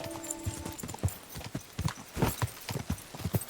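Godwin's horse in Kingdom Come: Deliverance 2 clip-clops at a steady walking rhythm, hoofbeats close and distinct over quiet game ambience.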